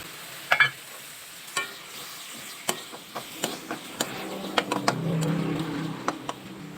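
Soaked green peas dropped into frying masala in a pan for an aloo paneer matar dish, producing a series of sharp clatters and spoon scrapes over a quiet sizzle that swells toward the end; no voices.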